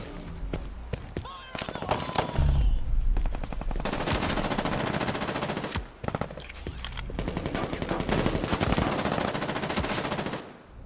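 Video game machine gun fire: dense, loud bursts of rapid automatic shots crackling through most of the stretch, broken by a couple of short pauses, with faint background voices mixed in.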